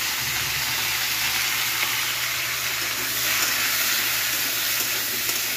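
Potato with okra (dhenrosh) frying in hot oil in a pan, a loud, continuous close-up sizzle hissing steadily throughout with no speech.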